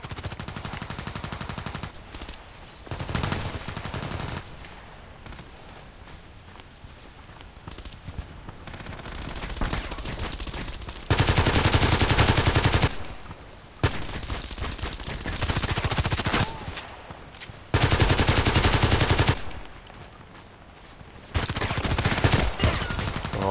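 Video game sniper rifle fire comes as long loud blasts in bursts separated by quieter gaps, with repeated heavy shots across the stretch.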